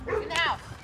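Dogs bark sharply and yelp up close in an outdoor chase after a wild bear, a quick burst of loud, excited barks.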